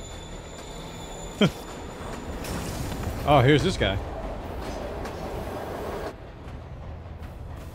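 A moving train rumbles steadily in Marvel's Spider-Man on PS4, with metallic screeches and a sharp squeal mid-clip, while someone talks over it.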